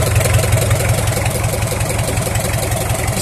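A 4D32 diesel engine with its injection pump runs steadily at idle, close and loud, giving a constant rough, throbbing drone with no breaks.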